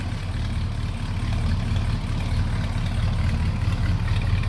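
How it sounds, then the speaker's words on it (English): A 1971 Oldsmobile Cutlass with its 350 Rocket V8 idles steadily, a close, even low rumble with no talk over it. "Nice little rumble out of that 350 Rocket."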